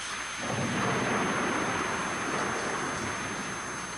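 Heavy rain pours steadily while a low rumble of thunder rolls underneath, dense and continuous throughout.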